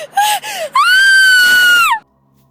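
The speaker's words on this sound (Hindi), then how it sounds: "अचानक आधी रात के समय जंगल की तरफ से वही खौफनाक चीख उभरी।" A terrifying high wailing scream for a Hindi horror story about a cry from the jungle at midnight: two short rising cries, then one long sustained shriek that cuts off abruptly, loud and close.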